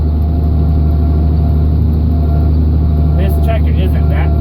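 A farm tractor engine runs steadily while loading pre-stacked hay bales, a loud constant low rumble close by with a brief higher mechanical whine near the end.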